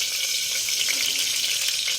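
Steady, bright crackling sizzle of cumin seeds frying in hot oil, close and continuous with no voices.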